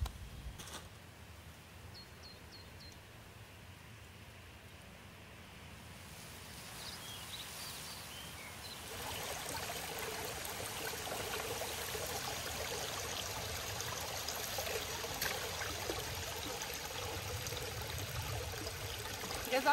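Water trickling and splashing in a small stream as a wide-mouth bottle is filled outdoors on a hiking trail, a steady continuous burble that grows louder midway and stays close.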